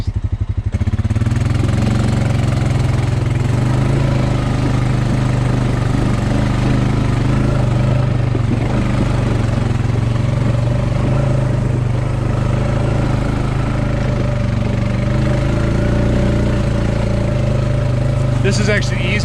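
A dirt bike engine runs steadily on a rough nature trail, its loud, continuous low drone holding close and unbroken throughout.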